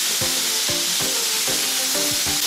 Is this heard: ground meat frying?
yes